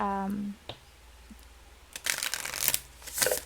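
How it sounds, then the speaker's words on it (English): Brief crisp riffling bursts of a new tarot deck being shuffled, two or three quick ruffles close up after a short hum and soft taps. "Yep, shuffles amazing."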